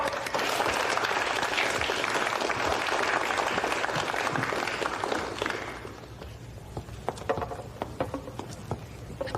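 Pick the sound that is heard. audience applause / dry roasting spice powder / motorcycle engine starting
audience applause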